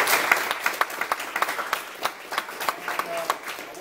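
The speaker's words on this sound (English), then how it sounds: "Let's give them a round of applause." An audience at a high school presentation claps, a crowd of scattered hands producing a steady patter of applause with sharp individual claps, moderately loud and without talk.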